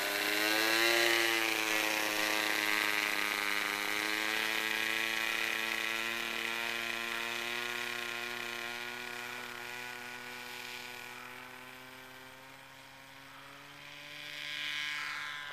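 Small model autogyro with its rotor being pre-spun and its engine running at takeoff, a steady high-pitched buzzing drone that holds loud and even, dips slightly near the end, then swells again.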